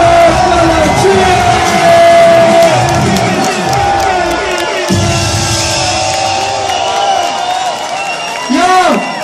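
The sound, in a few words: crowd cheering and applauding at rap battle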